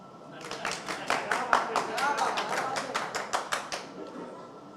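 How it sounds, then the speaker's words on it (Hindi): An audience at a fashion awards event claps in a rapid burst of sharp, closely spaced claps that build and then taper off, fairly near and clear. "ताली बजाओ"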